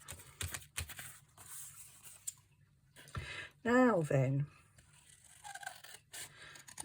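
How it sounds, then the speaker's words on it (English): Scissors snip through paper for a journal pocket in a few sharp, close clicks and crisp cuts, with a brief spoken phrase in the middle and quieter handling noises after. "I'm going to cut it with scissors."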